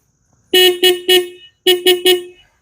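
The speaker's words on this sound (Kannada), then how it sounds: "ಹಾರನ್ ಬಂದು ಲೌಡ್ ಆಗಿಲ್ಲ ನೋಡಿ" A Harley-Davidson X440 motorcycle horn sounds in two bursts of three short, loud honks each, close and alone with no talk.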